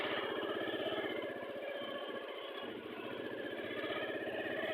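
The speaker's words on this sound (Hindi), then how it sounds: "एक हाथ से मेरे हाथ में मोबाइल है और दूसरे हाथ से मैं मोटरसाइकिल चला रहा हूँ।" A motorcycle engine drones steadily on a desert track in Cholistan, heard close from the saddle, with a brief softening of the low throb midway before the even running returns.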